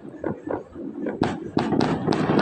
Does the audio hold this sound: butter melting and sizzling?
no